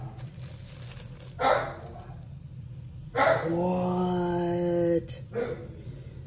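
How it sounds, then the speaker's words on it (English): Dogs barking indoors: three or four sharp barks spaced a second or two apart, with a drawn-out whine between them, and a person speaking briefly. "I can never make a freaking video without dogs barking"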